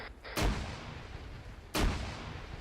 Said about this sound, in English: Roger, frag out, frag out.